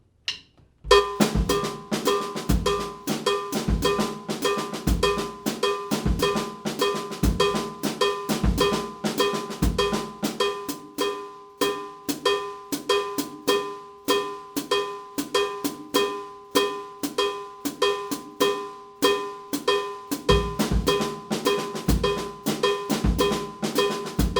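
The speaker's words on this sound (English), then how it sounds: "I'm going to use the songo, which sounds like this." A busy songo groove on a drum set repeats steadily, with a cowbell pattern, tight snare and tom accents, and bass drum, played close and continuously.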